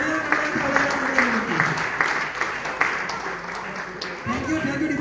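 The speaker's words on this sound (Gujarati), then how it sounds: "તે બદલ અમને તાળીઓના ગણગણાટથી" Audience applause at a Covid warrior award ceremony, a steady wash of clapping lasting several seconds with voices talking over it.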